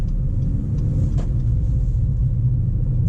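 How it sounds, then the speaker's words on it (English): A 2017 Acura ILX accelerating, heard from inside the cabin: a steady, loud low engine and road rumble with little variation, no distinct shift changes standing out, no talking. "the gear shifts are actually really quick. It just kind of goes through all the gears, just kind of like bang, bang, bang"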